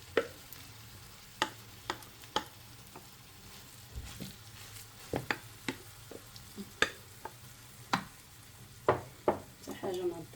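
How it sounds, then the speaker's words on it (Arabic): Maakouda batter, a Moroccan potato tortilla, cooking in a hot pan, with a steady low sizzle beneath a string of sharp close clicks and taps spread at irregular intervals, with no talking. "من بعد ما سخنت المقله مزيان دابا غنبدا نيطالي فيها المعقوده"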